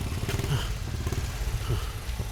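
A motorcycle engine rumbles steadily nearby, with a low throbbing growl and some rattling clatter over it.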